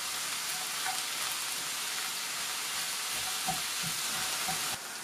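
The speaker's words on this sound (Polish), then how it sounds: "Cebula nam się smaży" Chopped onion fries in bacon fat in a pan, a steady close sizzle and crackle with a few faint stirring clicks.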